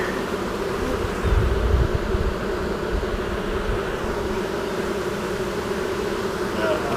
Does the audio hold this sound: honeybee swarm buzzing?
yes